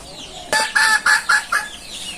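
A village chicken gives five loud, close clucks in quick, even succession, each a short, sharp burst over a quiet rural background.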